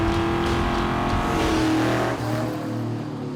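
A 2004 Mustang GT V8 fitted with new exhaust and headers rumbles loud and close, holding a steady throaty drone before the revs settle lower.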